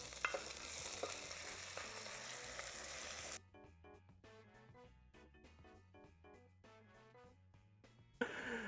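Rempah spice paste frying in a pan with citrus aromatics, sizzling loudly up close while being stirred, then quieter stretches with faint tonal sounds before the sizzle returns.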